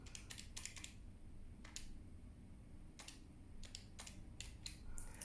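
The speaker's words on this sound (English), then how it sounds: "Let's use our calculator and press." Calculator buttons pressed in a run of sharp plastic clicks during a math lesson on circle problems, irregular taps in quick clusters with short pauses, close and fairly quiet over a low steady background hum, no talking.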